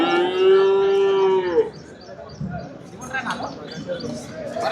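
A buffalo calf gives one long, loud moo at a crowded livestock market, then fades into a busy background of voices, chatter and general crowd noise.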